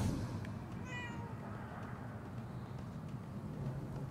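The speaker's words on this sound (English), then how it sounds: "Why is there a cat that I can possess?" A cat meows once in the detective video game Murdered: Soul Suspect, a short clear mew near the start over a low, steady ambient background rumble.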